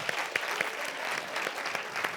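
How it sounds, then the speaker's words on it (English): An audience claps in a steady, sustained round of applause, with sharp individual claps standing out against the dense crowd noise and no voices over it. "Big round of applause"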